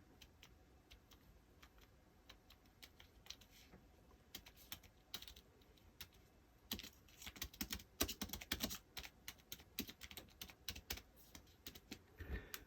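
Soft, quiet typing on an Apple A2449 keyboard, sparse taps at first and then a faster run of light clicks, close by in a hushed room.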